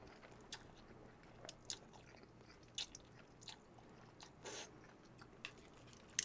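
Someone eating yeolmu mul guksu, cold noodles in broth with young radish greens: close, soft bites and chewing with scattered slurpy, crunchy bursts, quiet and without talk.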